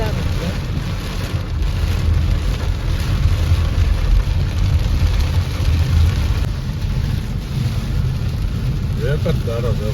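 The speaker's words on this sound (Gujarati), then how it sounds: "એક જ ધારો છે વરસાદ છે" Heavy, steady rain drums on a vehicle travelling the road from Bhavnagar to Surat, a continuous loud wash with road and wind noise underneath.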